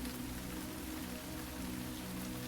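Steady rain patters softly and evenly on a surface, a constant quiet hiss of drops with no other sounds.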